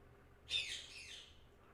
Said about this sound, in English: so you don't have to keep hearing the birds going squawking, squawking, squawking